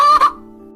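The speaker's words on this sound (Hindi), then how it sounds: "एक मुर्गी उड़ती हुई आई और सीधा उनके घर के आंगन में उतर गई।" A chicken makes a short, loud squawk or cluck that fades quickly, with no flapping clearly audible beside it.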